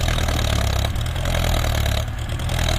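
A Ford 6640 tractor engine roars steadily at full throttle while plowing hard, dry ground, a deep constant drone with slight wavering, close and loud throughout.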